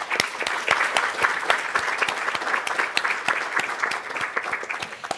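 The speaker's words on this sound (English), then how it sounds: "I would like to give a round of applause" An audience at a retinoblastoma conference applauds warmly to honour an absent organizer. Dense, steady clapping fills the room for about five seconds without a break.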